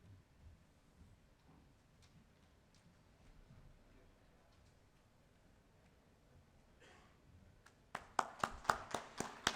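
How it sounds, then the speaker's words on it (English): Audience clapping breaks out at the India Banking Summit & Awards after a quiet stretch of faint room sound and murmuring, building to a burst of distinct, fairly close claps in the final two seconds. "Big round of applause, ladies and gentlemen, to Ankur Handa from Lentra on democratizing"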